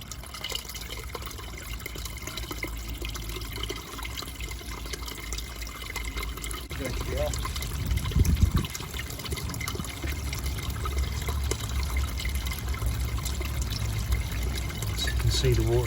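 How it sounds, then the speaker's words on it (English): Mains water flushing through a domestic radiator into a drain, a steady broadband rush of running water that holds throughout, with a brief louder surge near the middle and people talking over it. "So basically we're just flushing mains water through one rad at a time."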